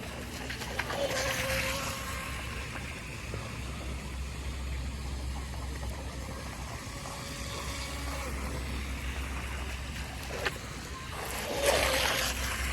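Micro RC boat on open water with an underpowered motor, a faint motor buzz and light water wash, with occasional splashes and louder bursts.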